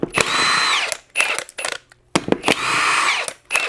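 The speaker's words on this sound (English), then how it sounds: "It's the Milwaukee Fuel M18 half-inch drive impact wrench socket thing, impact wrench." A Milwaukee M18 Fuel half-inch impact wrench removes nuts on a 2008 EZGO RXV gas golf cart, firing in several loud, close, rattling bursts separated by short pauses.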